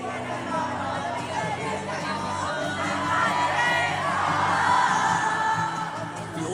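A huge concert crowd at a concert in Argentina sings along with the show. A dense, loud wash of massed voices and cheering fills the scene and swells toward the middle before easing slightly.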